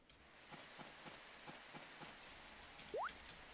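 Soft, steady rain falls in the Harvest Moon DS video game, a faint even patter with a few light ticks and a brief chiming tone near the end.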